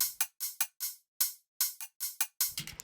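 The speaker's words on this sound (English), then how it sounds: "It's just a very simple dubstep loop I made here." Simple self-made dubstep drum loop in Ableton Live: sparse, punchy hits with sharp attacks and short decays in an uneven rhythm, with a brief busier flurry of noisy percussion at the end, loud and alone.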